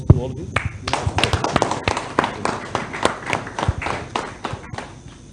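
A hall audience at an independence anniversary event claps in a dense, steady round of applause lasting several seconds, close and fairly loud, with some voices faintly underneath.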